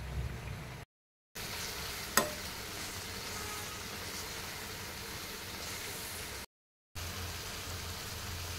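Carrot halwa mixture being stirred in a pan, a soft continuous scraping and faint sizzle with one brief sharp knock, steady and close, with no talk.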